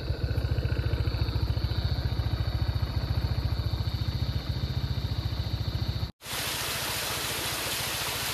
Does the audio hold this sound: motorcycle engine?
yes